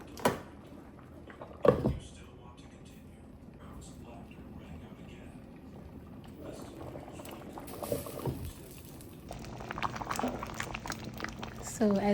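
Jamaican stew peas simmer in coconut milk in a pot, bubbling steadily and close up, with a couple of sharp utensil knocks early on and denser bursts of bubbling toward the end.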